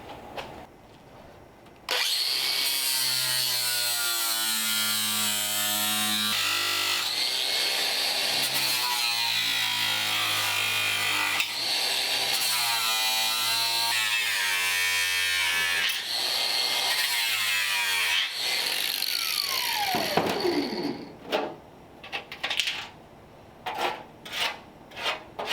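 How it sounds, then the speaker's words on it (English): A power grinder cuts the heads off old bolts on 1939 Ford hood hinges, a sustained loud whine that shifts pitch as the load changes for about eighteen seconds, then stops, followed by a few clanks and taps. "I'm just gonna grind the heads off and put new hardware in them all the way up through"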